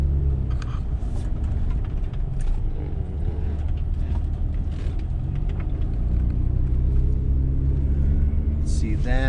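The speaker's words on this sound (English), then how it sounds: "Oops, another vehicle coming at me." Another vehicle approaches and passes on a park road at Interstate Park, a steady low rumble of traffic around a moving car, with a brief rising swell near the end.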